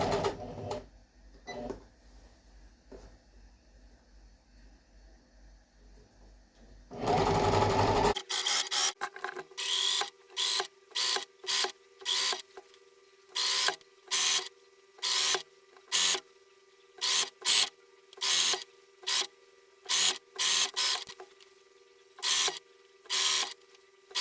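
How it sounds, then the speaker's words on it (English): A sewing machine stitches a bar stool slipcover a quarter inch from the edge, running in a steady hum before a loud burst of stitching, then short repeated runs in a regular pulsing rhythm. "I'm stitching just about a 1/4 inch from the edge."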